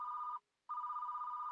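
A telephone's electronic bell rings in two bursts separated by a short silence, trilling steadily and clearly at close range with no voices.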